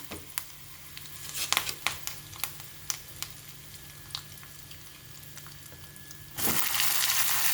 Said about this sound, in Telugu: ఆవాలు, కరివేపాకు వేస్తున్నాను.